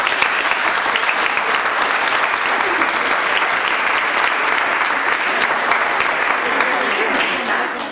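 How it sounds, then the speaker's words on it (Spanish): A crowd applauds steadily for several seconds, dense clapping holding an even level before tapering slightly at the end. "les pido un aplauso"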